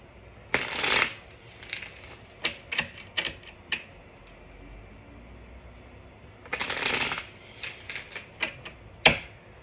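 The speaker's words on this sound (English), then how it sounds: "Let's go ahead and pull some cards." Tarot cards shuffled close by: two loud riffling bursts with scattered dry taps and flicks of the deck between them.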